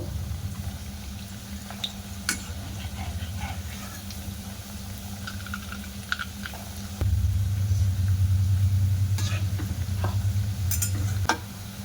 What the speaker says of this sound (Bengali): এবার আমি মিষ্টিগুলো সব ভাজা করে নেব